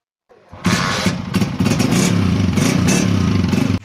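A motorcycle engine starts and runs loudly up close, a rough continuous rumble with clattering mechanical noise.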